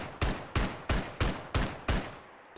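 Six evenly spaced, sharp semi-automatic shots from a Steyr AUG chambered in 10mm, a weapon mod in the Fallout 4 game, each a loud crack with a short decaying tail, fired alone at a steady pace.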